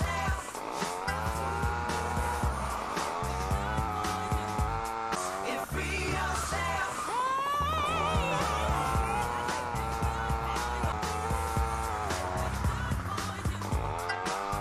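Car tires squeal as the handbrake yanks a vehicle into a skid in GTA Liberty City Stories, the screech rising over a loud, constant engine roar and game music.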